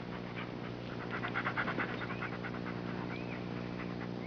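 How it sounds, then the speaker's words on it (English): A dog pants close by in quick, rhythmic breaths over a steady low background hum, with no talking. "Whoa! Good dog."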